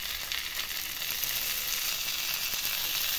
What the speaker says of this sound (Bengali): এভাবে আস্তে আস্তে স্লো ফ্লেমে একে শ্যালো ফ্রাই করে নিতে হবে, ভেজে নিতে হবে।